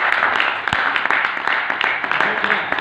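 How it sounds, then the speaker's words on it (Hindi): A dense, steady patter of audience clapping fills the short moment, even and continuous with a few sharper individual claps standing out. "एक बार जोरदार तालियां।"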